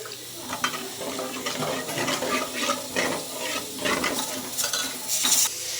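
Egg kootu being stirred in a pot with a little added water, scraping and wet sloshing strokes repeating in an uneven rhythm over a faint sizzle, close by.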